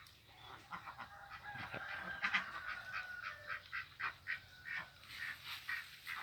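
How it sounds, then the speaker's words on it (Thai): A flock of Yi Liang and Muscovy ducks in an open pen quacks and honks continuously at moderate distance, overlapping calls in an uneven rhythm, fairly quiet overall. "ในนี้จะมีเป็ดอีเหลียง แล้วก็มีมันหลาดนะฮะ มันหลาดใหญ่"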